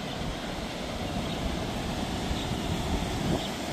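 Steady broadband roar of the Someshwar waterfall on the Godavari River near Nashik, running in full flow after heavy rain; a continuous, even rush of falling water with no voices.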